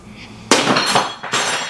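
Two sharp glass clinks a moment apart as glasses meet in a toast over plates of butter chicken pasta bake, bright and close with short ringing tails.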